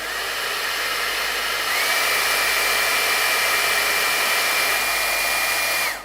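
An iTeraCare therapy device, the quieter model, runs with a steady, even airy hum and hiss, much like a hair dryer, holding constant for several seconds before cutting off at the end; no one speaks.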